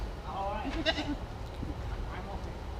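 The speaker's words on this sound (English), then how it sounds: "baby goat" Baby goat bleating on a walking tour in Sabang, Philippines, with one short, wavering cry near the start under outdoor background noise and nearby voices.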